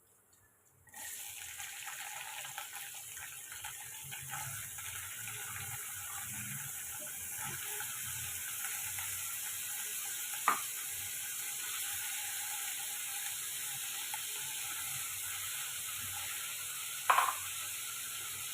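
Cut, washed potatoes frying with curry leaves and salt in a pan, a steady soft sizzle throughout with a couple of brief sharp clinks from stirring, no talk.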